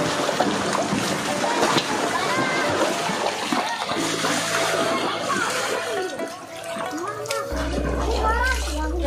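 Water splashes and splatters while a tractor and a bike are washed at home with shampoo, with children talking throughout and a low engine-like hum near the end.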